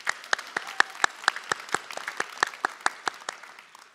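A small crowd at a Northwestern Health Sciences University commencement claps for a graduate, giving a loose, moderately loud patter of individual hand claps that thins out over a few seconds.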